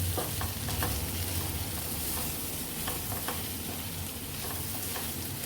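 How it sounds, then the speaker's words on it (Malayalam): A spoon stirs beetroot and potato curry with chilli powder, coriander powder and garam masala in a pan, giving a continuous soft sizzle with a few brief scraping clicks and no talking. "നന്നായി മിക്സ് ചെയ്തെടുക്കാം."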